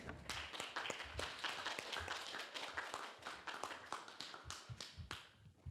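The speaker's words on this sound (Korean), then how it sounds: "일어나서 큰 박수를 맞이해 주시기 바랍니다" A crowd at a university professor's lecture claps steadily, with dense overlapping handclaps that build into sustained applause lasting several seconds, with a few faint voices mixed in.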